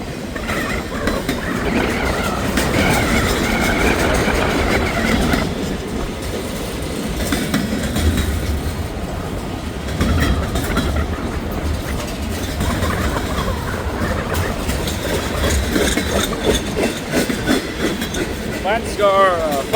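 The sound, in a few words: freight train passing with flat-spotted wheels and bearing issue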